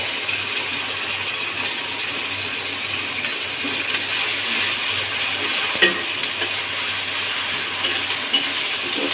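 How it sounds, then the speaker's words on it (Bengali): Onion frying in a pan with a paste of ginger, garlic, cumin and coriander added, a steady hissing sizzle that runs the whole time with occasional light stirring clinks, fairly close and unbroken, no voices. "এই এখন আমি আদা রসুন জিরে ধনে একসঙ্গে বাটা এটা আমি দিয়ে দেবো"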